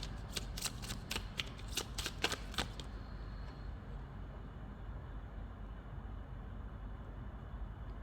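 A deck of tarot cards is shuffled in a quick run of crisp riffling flicks lasting about three seconds, followed by a steady low background hum.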